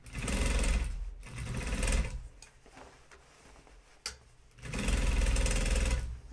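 A sewing machine stitches Ames jeans in two long loud bursts of rapid even stitching, separated by a quieter pause with faint handling sounds, with no one talking.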